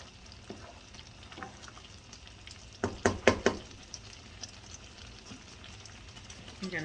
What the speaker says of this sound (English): every now and then I'm going to walk over and give it a good stir